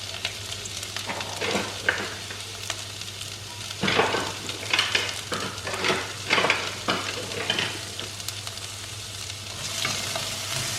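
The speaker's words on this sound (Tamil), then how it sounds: "ஒரு 1 மினிட் அந்த பச்சை வாடை போகிறதுக்கு லைட்டாக ஃப்ரை பண்ணிடுவோம்." Onions and curry leaves fry in a pan for mutton chops curry, with a steady sizzle and repeated scraping stirs that come in clusters, close and fairly loud, with no talking.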